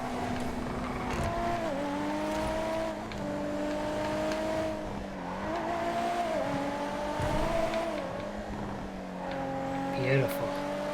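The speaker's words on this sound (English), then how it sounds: "Engine sound on this car, especially off throttle." A car in the GTA FiveM racing game drones along, its engine pitch dipping and rising as the throttle comes off and back on, with a voice talking over it throughout.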